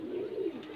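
High flyer pigeons, desi birds, giving a soft low cooing murmur, brief and fairly faint, with no voices.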